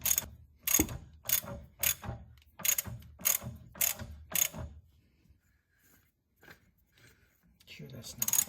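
Socket ratchet tightening a rear shock bolt on a BMW E46 convertible: seven or eight sharp, close bursts of clicking in a regular rhythm, then a quieter pause with light handling noise before a few more clicks.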